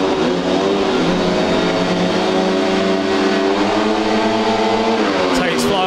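Speedway motorcycles leave the start of heat one at Belle Vue, their engines a loud, sustained high-pitched roar that rises and shifts in pitch as the pack accelerates away, with a commentator talking throughout.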